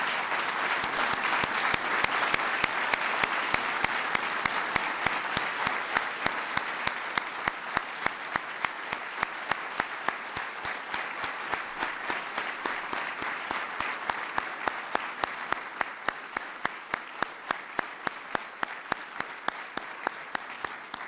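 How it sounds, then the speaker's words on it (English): Sustained audience applause for Medal of Valor recipients at a presidential ceremony, a dense, steady roar of clapping that holds loud for about twenty seconds with no talk. "Let's give one last big round of applause to the recipients of the Medal of Valor."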